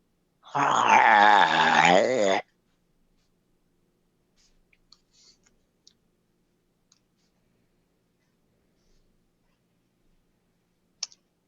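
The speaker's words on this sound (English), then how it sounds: "There's a low growl sound." A low creature growl sound effect rumbles loudly for about two seconds at the start, then gives way to near silence broken only by a few faint, scattered clicks.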